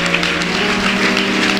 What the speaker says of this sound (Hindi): यीशु नाम के लिए ऐसी ताली बजा रहे हो